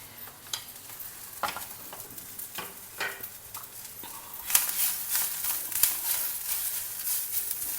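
Masala spices, including coriander powder and dry mango powder, are stirred in a frying pan. Spatula scrapes land in spaced strokes at first, then a brighter, steady sizzle swells up close and holds to the end.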